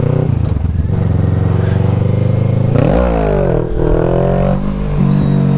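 A motor engine roars loudly and close, holding a steady drone and then revving up and down under throttle, with rattling clatter mixed in.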